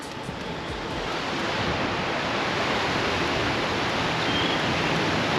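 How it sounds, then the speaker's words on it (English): A fast-flowing river beside a cycling route in Japan, heard as a steady, loud, unbroken rush of water that stays even throughout, with no voices. "The river's flowing pretty quick too."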